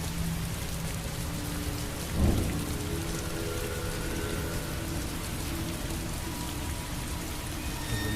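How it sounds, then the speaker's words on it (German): Steady rain in the video game Heavy Rain: a dense, even hiss of rainfall with a low rumble and faint tonal hum beneath, continuous and moderately quiet, with no talking. "Ich glaube, das war ein Regentropfen."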